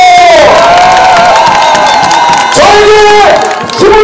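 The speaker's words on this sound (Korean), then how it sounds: "뜨거운 박수로 환영시켜 주십시오." A large crowd at a campaign rally cheers and whoops loudly and continuously, with a musical tone sounding over the roar, which swells again near the end.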